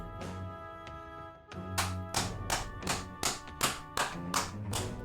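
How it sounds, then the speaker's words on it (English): Rhythmic claps or taps during a live game stream, about eight sharp even beats in a row, loud and close over steady background game sound, with no talking. "Clap it up. Clap it up."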